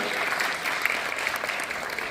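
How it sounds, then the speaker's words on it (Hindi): Steady applause fills the hall at a social-service award ceremony, an even, continuous patter of many hands at moderate loudness. "ये बात के लिए तो एक बार जोरदार तालियां होनी ही चाहिए।"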